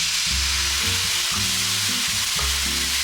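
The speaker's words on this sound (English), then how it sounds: "Another meal prep I made was a miso eggplant stir fry." Miso eggplant stir fry with fried tofu sizzles loudly in a hot pan, a constant bright crackle overlaid by low scraping thumps as the pieces are stirred and tossed.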